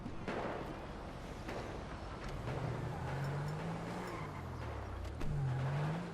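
Car driven in GTA V during a London police patrol, a low engine hum that rises and falls with revving, moderately distant under faint background noise.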